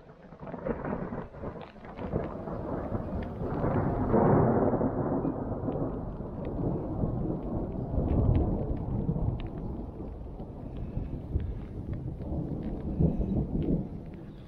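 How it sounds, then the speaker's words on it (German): Heavy thunder rumbles through a thunderstorm on the Baltic island of Rügen, a long rolling roar that swells and fades over steady rain. "jetzt hat es ja noch richtig feste gedonnert"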